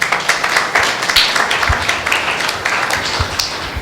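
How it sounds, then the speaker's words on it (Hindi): Loud, sustained applause from a church congregation during a Tuesday meeting at Anant Jeevan Church, dense clapping rolling on steadily without a break. "जिसने कहा जीवित उसके लिए धन्यवाद देते हैं जोरदार ताली बजाकर"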